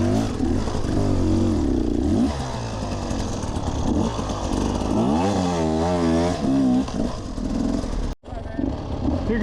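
A dirt bike engine revs and climbs in pitch while riding up a muddy, rocky hill at a hare scramble race, loud and close, with a rider's voice over it and a sudden cut near the end.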